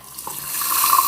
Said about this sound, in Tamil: இப்போ நம்ம கரைச்சி வச்ச ரசமும் இதிலே ஊத்திடலாம்.